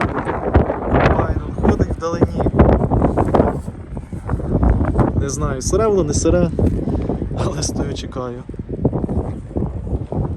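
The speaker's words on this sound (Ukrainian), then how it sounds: "Вітер на полі просто скажений." Strong wind in a soybean field during autumn harvest buffets the microphone in loud, rumbling gusts while someone talks over it, the roar steady and close throughout.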